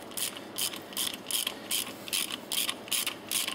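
A spanner ratchet clicks in eight quick, evenly spaced bursts while loosening a pump valve assembly, close and crisp, with no talking over it.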